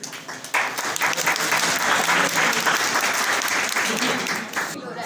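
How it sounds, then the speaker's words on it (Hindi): Loud, sustained applause from an audience at a college function in Mau, dense clapping filling several seconds with a voice briefly over it. "जोरदार तालियां होनी चाहिए"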